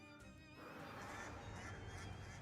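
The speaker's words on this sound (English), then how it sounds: "A bunch of very large and now even larger ducks are swimming around happily in max grain" Large cartoonish ducks honk repeatedly from a grain-filled silo in the video game Shadows Over Loathing, layered nasal honks over a steady game ambience, fairly loud and busy throughout.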